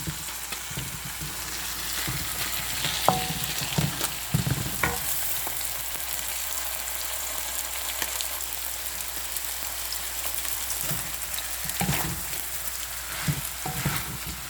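Bean sprouts sautéing in a hot pan for a vegan side dish, giving a steady, close, crackling hiss that runs the whole time, broken by scattered clicks and scrapes as the spatula stirs them.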